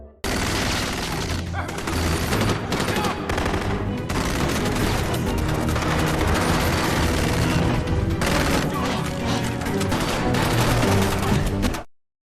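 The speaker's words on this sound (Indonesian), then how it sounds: "Danny ditembak dan kontak senjata pun terjadi." A firefight in a television drama, with dense, loud volleys of gunfire and heavy bangs running almost nonstop for about twelve seconds before cutting off abruptly.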